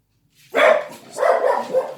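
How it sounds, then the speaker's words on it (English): Indoor dogs barking: two quick bursts of loud, close barking separated by a brief pause, with no other sound around them. "Great, dogs barking."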